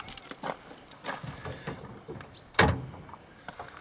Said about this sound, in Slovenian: Če hočemo priti do motorja, je treba najprej odpreti zadnja vrata.